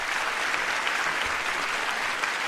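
A crowd at a school's annual function applauds with a dense, even roar of clapping that holds steady across the whole short stretch, with no voices standing out.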